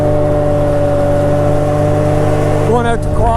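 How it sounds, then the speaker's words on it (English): A 2019 Can-Am XRC Turbo R side-by-side runs with a loud, steady droning engine hum and a brief rise in pitch near the end as it revs. "This is a 2019 Can-Am XRC Turbo R."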